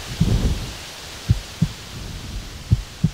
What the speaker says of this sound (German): Ein Herzklopfen.